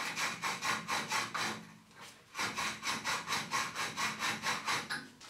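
A deburring tool meant for copper pipe scrapes the internal burr of a cut steel conduit, giving a rhythmic series of rasping strokes, close and steady with a short pause midway.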